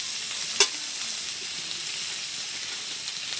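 Potatoes sizzle steadily as they are stirred in a hot pan with salt, turmeric and coriander powder, with one sharp utensil scrape early on and a constant frying hiss after it.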